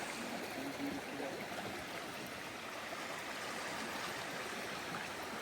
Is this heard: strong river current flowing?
yes